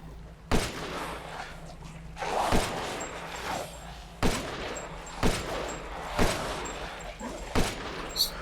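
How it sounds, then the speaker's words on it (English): Gunfire in the video game Resident Evil Village, fighting Lycans near the village; repeated sharp, loud shots crack out at irregular intervals over a dense background of game noise and ambience. "Just keep shooting to the left of it, Brian."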